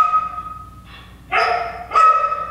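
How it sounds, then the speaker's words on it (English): A dog at a whiskey bar gives a few yipping barks and whimpers, a short whine followed by two sharper barks, close and fairly loud against a quiet room. "We've got one of the dogs."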